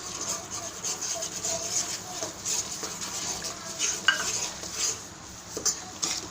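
Spoon stirring wheat flour halwa in a pan after a bowl of sugar goes in, a steady scraping and rubbing with faint sizzle and a few sharper clinks, close up with no talking.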